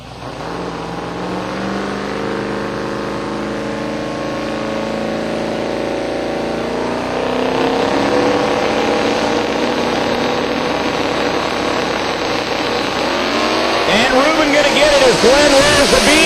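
A turbocharged Mustang drag car at a drag strip builds from a low rumble into a rising engine roar, growing louder toward the end with a sharp revving burst, under an announcer's commentary.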